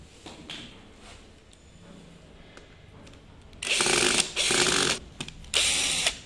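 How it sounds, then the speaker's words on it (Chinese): Screws being backed out of the charging port cover on an H5: near, loud bursts of whirring tool noise after a quiet stretch, with brief pauses between them. "然后如果正常的话，第二步把这两个螺丝取掉。"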